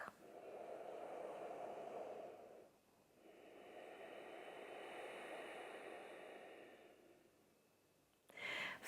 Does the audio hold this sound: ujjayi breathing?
yes